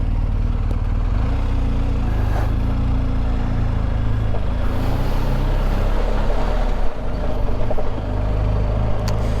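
A BMW 1250GS motorcycle engine runs steadily at low revs on a narrow one-way road in France, a continuous deep rumble with a slight dip where it nearly stalls, close and loud throughout.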